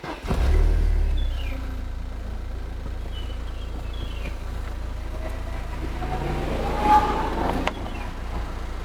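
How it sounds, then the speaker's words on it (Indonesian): A Mercedes-Benz C230 (W202) car engine with a stock exhaust starts with a brief surge, then settles into a low, steady idle with a faint rev near the end, recorded close by. "sekarang kita akan coba dengarkan suara mesinnya seperti apa"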